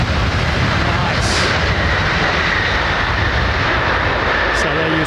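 A Boeing Dreamliner airliner lands at London Heathrow with a loud, continuous engine roar and rushing noise that fills the whole stretch.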